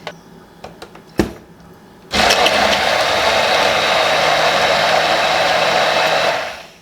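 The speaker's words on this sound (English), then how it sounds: "Feels like a crime doing this to my poor blender." A few light clicks and taps, then a blender motor roars on, blending a thick mixture of cooked noni fruit, onions and spices, running loud and steady for about four seconds before cutting off.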